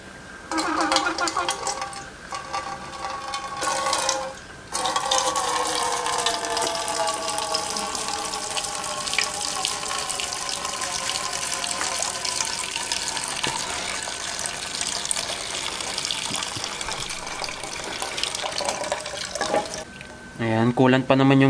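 Coolant pours out of the radiator of a 2001 Kawasaki KMX125 motorcycle in a steady, close gush of splashing liquid that runs for about twenty seconds, with a brief break near the start and a louder surge at the end.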